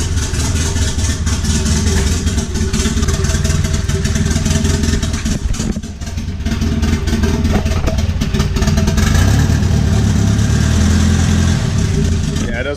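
A car engine with a melted piston, sounding like a Subaru, runs loud and rough with a lumpy, uneven rumble and clattering beat throughout, briefly dipping around the middle before revving back up.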